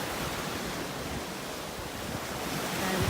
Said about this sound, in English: So I'm going to walk all the way along Fossil Beach on my way back home.